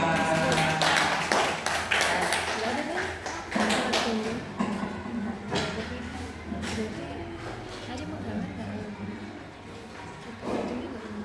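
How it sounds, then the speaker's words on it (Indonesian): Schoolchildren in a classroom lesson in Lampung clapping in scattered bursts, sharp uneven hand claps mixed with talking voices, fairly quiet and fading toward the end. "Ini tepuk tangan kita semua"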